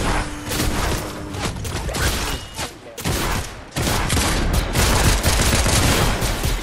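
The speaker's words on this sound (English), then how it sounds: "Oh, shit, being shot at." Dense video game gunfire, loud overlapping volleys and rapid bursts that fill the whole stretch with brief gaps, with some voices in the mix.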